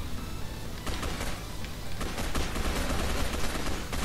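Gunfire from Batman shooting in the video game Gotham City Impostors: a dense, loud stream of rapid shots and impacts, with sharper bursts standing out over continuous battle noise.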